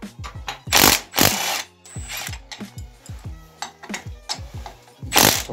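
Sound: removing bolts from Italika ATV150 engine with ratchet

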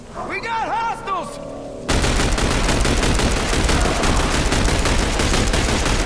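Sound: gunfire in the video game The Bureau: XCOM Declassified

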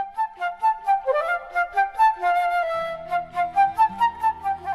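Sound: transverse flute being played

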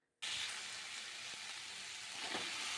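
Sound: ridge gourd frying in a pan

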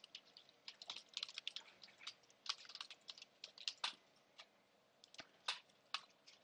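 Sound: typing on a computer keyboard

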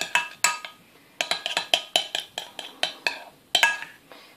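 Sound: stirring slime mixture with textile hardener

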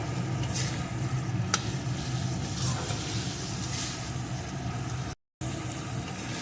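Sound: stirring and cooking mung dal with bottle gourd peel

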